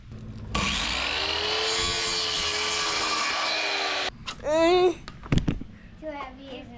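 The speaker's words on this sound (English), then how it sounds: "let's cut the decking for the top flat part first" Wooden decking boards for a bike ramp cut with a power saw, a loud sustained whine for several seconds that then stops, followed by a few voices and brief knocks.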